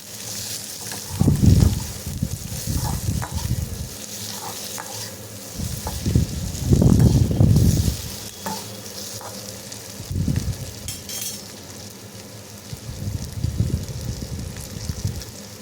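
Chillies sauté in a pan for chutney with a steady sizzle throughout, broken by several loud, scraping stirring strokes at regular intervals, close up and with no talking.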